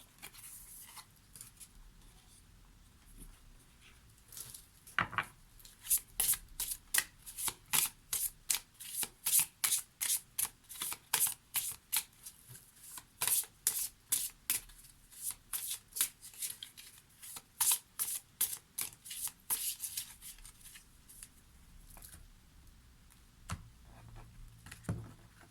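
Oracle cards are shuffled close up in a long run of rapid, crisp flicks and riffles, with a card drawn near the end among sparser soft taps.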